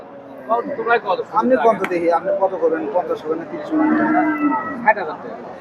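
A desi cow with a Sahiwal-cross calf moos loudly at a rural cattle market. Nearby people talk and bargain over the drawn-out lowing.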